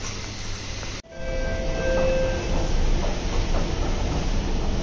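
A train at Chennai Central railway station rumbles and rolls steadily after a sudden cut, a loud continuous rail noise with no talking.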